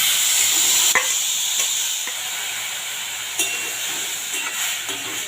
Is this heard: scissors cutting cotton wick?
no